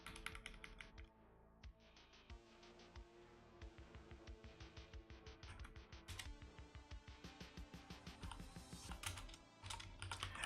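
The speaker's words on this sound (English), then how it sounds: "Now I'm just typing this to get the keystrokes to get to level 5" Rapid, continuous keystrokes on a computer keyboard, a dense run of close, crisp clicks with brief pauses between bursts, heard alone with no voices.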